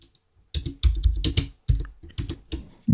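Terminal command typed on a computer keyboard: a brisk, close run of key clicks and taps lasting a couple of seconds, with uneven rhythm and brief gaps between keystroke groups, heard alone.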